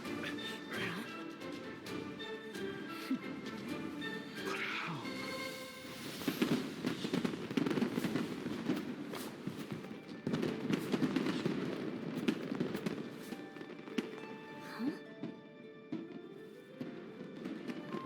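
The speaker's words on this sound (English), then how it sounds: "Fireworks show?" Fireworks show in the video game Genshin Impact, with dense crackling bursts and pops spreading over a busy musical bed, growing louder and fuller midway and continuing steadily throughout.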